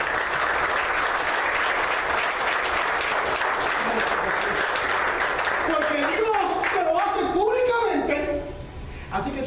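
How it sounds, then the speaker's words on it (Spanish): A church congregation bursts into sustained applause during a sermon, a dense wash of many hands clapping together. It fades toward the end as a voice begins speaking. "de los aplausos a Cristo."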